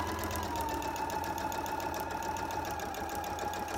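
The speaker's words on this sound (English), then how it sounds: "Sewing that right on the line." A sewing machine runs steadily as it stitches fabric along a line, a continuous close humming whir with rapid regular needle chatter and no pauses or voices.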